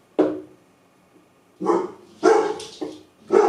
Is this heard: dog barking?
yes